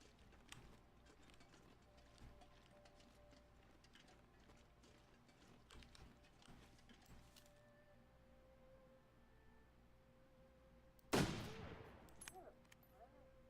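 A single loud rifle shot fired at a wolf in the survival video game The Long Dark rings out sharply near the end, following a long quiet stretch of faint ambient wind and small mechanical clicks.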